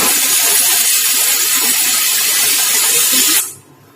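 A loud, sustained steam hiss from a pressure cooker whistle, boiling tomatoes, blasts continuously for a few seconds, then cuts off abruptly, leaving a faint low background.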